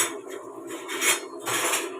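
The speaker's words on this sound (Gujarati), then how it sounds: "હવે આપણે થોડો હલાવી દઈશું" Drumstick curry with crushed gathiya, sesame and peanut powder being stirred in a pot, a spoon scraping and rubbing against the metal in continuous close strokes.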